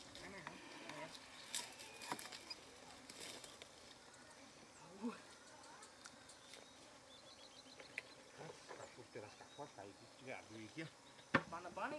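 Bees from a rural farm hive being moved into a new hive box buzz faintly and continuously, with scattered light knocks and taps of handling around the box.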